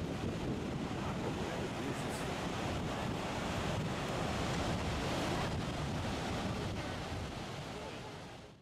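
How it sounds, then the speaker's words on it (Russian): Niagara Falls roars as a dense, continuous wash of falling water, loud and steady with wind buffeting the microphone, fading slightly at the end. "Подойдем с вами к самому водопаду."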